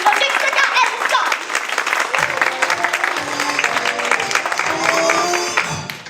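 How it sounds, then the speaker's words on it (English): Theatre audience applauding a father-and-son pair during a high school musical, a sustained wash of clapping with voices and some stage sound mixed in underneath. "a warm round of applause please, for Nick Cricker and son"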